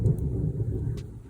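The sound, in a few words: thunder rumbling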